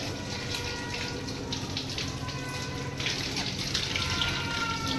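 Tap water runs steadily into a sink while pieces of mutton are washed one by one by hand, a constant splashing hiss with faint clinks and shifts of the stream.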